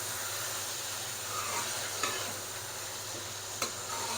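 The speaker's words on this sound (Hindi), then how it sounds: "गोश्त को थोड़ा सा फ्राई करेंगे।" Beef sizzling and frying in a pan while cooking yakhni pulao biryani, a steady close hiss with a couple of sharp utensil clicks and stirring scrapes, no voices.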